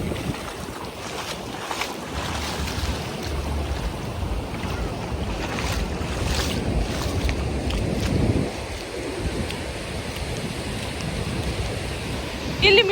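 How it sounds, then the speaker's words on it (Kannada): Strong wind roars and buffets the microphone while sea waves wash and surge on a beach at evening, a continuous loud rumble with a swelling crash near the end. "ಇಲ್ಲಿ ತುಂಬ ಗಾಳಿ ಇದೆ ಮತ್ತು ನೀರಿಂದು ಶಬ್ದ ಜಾಸ್ತಿ ಬರ್ತಾ ಇದೆ"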